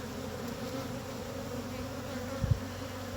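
Honeybees drone steadily around an open hive during hive inspection, a close, constant buzzing with a brief louder swell as one flies near.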